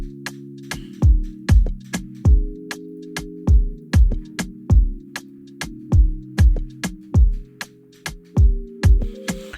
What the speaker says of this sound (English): you already have a chord progressions that sound like this.